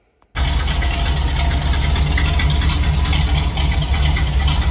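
A Chevrolet C10 truck engine cranks and catches after a brief quiet moment, then settles into a loud, steady, rumbling idle close by with no voices.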